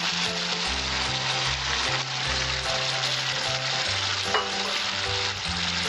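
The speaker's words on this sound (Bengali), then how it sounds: "আমি এতে এক কাপের মতো জল দিচ্ছি" Koi fish curry sizzles and fries in hot oil in a pan as about a cup of water goes in, a continuous crackling hiss with stirring, loud and close, no talking.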